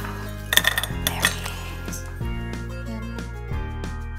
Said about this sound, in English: put our berries into a small saucepan and put them on a medium-high heat